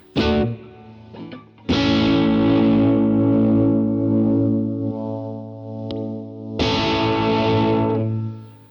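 Heavily distorted, overcompressed electric guitar chords from a Gibson SG on the lead pickup ring out and sustain with a wobbling tremolo, struck twice with a brief pause between, loud and close.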